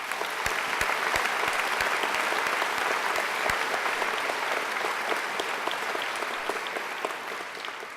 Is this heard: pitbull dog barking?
no